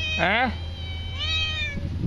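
A cat meows twice nearby, a short rising-falling call followed by a longer, higher one, over a low background hum.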